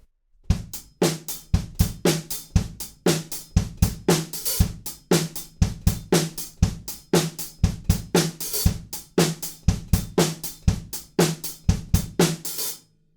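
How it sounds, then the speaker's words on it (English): A steady drum beat from a song plays alone, with kick and snare hits and crisp hi-hats landing on the offbeats in a regular, driving rhythm. "instead of having straight 8s, we've got offbeat hi-hats"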